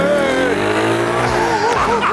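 Supercars race car driven hard with tyres squealing on cold rubber, engine loud and constant throughout as skids and revs sweep up and down, with voices talking over it.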